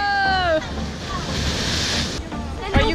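Ocean waves surge and wash below a cliff at Nusa Lembongan, Bali, a loud, steady roar with wind buffeting the microphone and a brief whistle-like call at the start.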